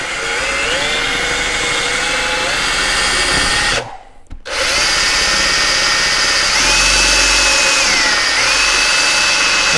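A power drill bores a recessed lock hole in wood for an arcade game cabinet restoration, a loud, close, sustained whine that stops briefly, then spins up and keeps running.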